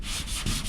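An old Scotch-Brite pad on a Velcro sanding pad scrubbing down a surface: a loud, close, continuous rough rubbing with a few back-and-forth strokes over under a second.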